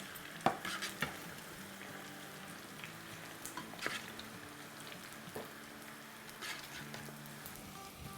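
Masala french fries crackle in hot oil, a quiet but steady bubbling sizzle with scattered pops and a few light stirring clinks.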